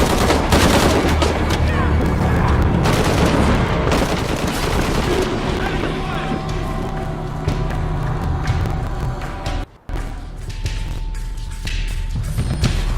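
Heavy gunfire in Shadow of the Tomb Raider Definitive Edition, dense bursts of automatic fire and booming shots that keep going almost without a break, loud and close, with a short drop near the end.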